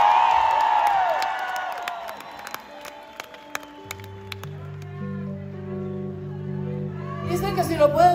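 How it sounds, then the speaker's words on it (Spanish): Crowd at a concert in New York City applauding and cheering for a few seconds; the noise fades as sustained music tones come in and hold under a quieter audience. "Un aplauso fuerte para los mojados."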